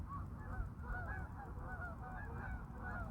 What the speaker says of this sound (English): I'm gonna let these geese pass.